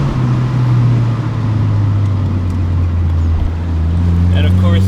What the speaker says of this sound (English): that little burble, that deep burble it adds is also pretty fun